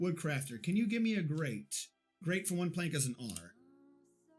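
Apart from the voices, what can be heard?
No distinct noise like a dog, phone or traffic.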